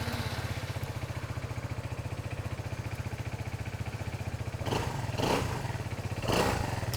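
An Italjet Dragster 200 scooter engine runs steadily at idle with a fast, even pulsing putter, close by, with a couple of short blips of throttle near the end.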